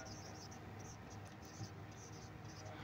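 Pen or marker scratching steadily across a board or paper in a quiet room, a soft continuous scraping texture with faint background hiss.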